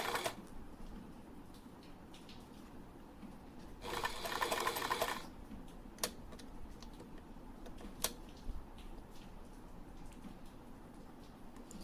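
A sewing machine fitted with a zipper presser foot stitches fabric in a single short, loud run in the middle, with quiet clicks and handling ticks before and after it.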